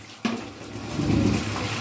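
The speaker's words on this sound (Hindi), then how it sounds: "अब मैं इसमें डालूंगी पानी," Water being poured from a container onto raw chicken liver in a home kitchen, a close, steady splashing pour that starts abruptly and continues to the end.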